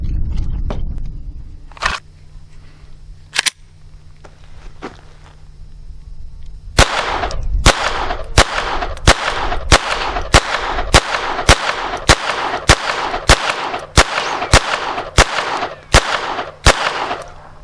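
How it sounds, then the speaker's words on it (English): Taurus TX22 pistol firing 16 rounds of Winchester Super X ammunition: a few scattered early shots, then a steady run of sharp, loud reports at roughly half-second intervals, with a quiet hum underneath and no talk. "let's just start shooting and see what happens"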